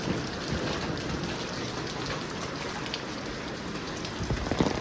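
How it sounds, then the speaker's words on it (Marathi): Heavy monsoon downpour in Mumbai: dense, steady rain hissing and pattering on surfaces, loud and continuous throughout with no voices. "चला पूर्ण मे महिन्याचा पाऊस आता एका दिवसात पडणार आहे असं वाटतंय."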